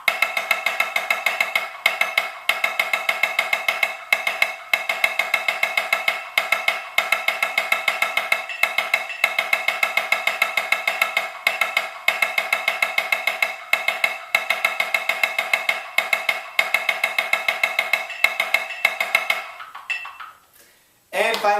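Snare drum played in a rapid, even sixteenth-note timing exercise, crisp strokes rolling continuously with brief gaps between sections, close and loud, stopping near the end.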